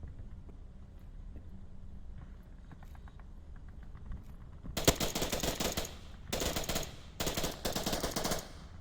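Automatic gunfire from a match of the VR shooter Onward rattles out in several long, loud bursts after a quieter stretch of distant shots.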